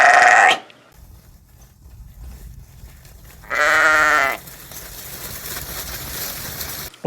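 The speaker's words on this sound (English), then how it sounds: "today we're talking about sheep, as you can hear" Two loud, wavering bleats from an Icelandic sheep nearby in a barn, one at the start and another a few seconds later, with quiet shuffling in between.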